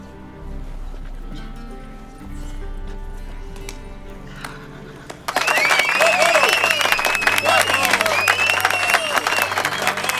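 Crowd applause and cheering erupt in a Witcher 3 game scene after a comedy play, loud and sustained after a quieter stretch with horse clip-clops and low voices.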